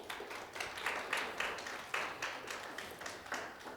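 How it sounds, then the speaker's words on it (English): Audience applause at a symposium on religious inclusion, a steady patter of many hands clapping at moderate distance, rising and falling gently with no voices over it. "Let's give them a round of applause."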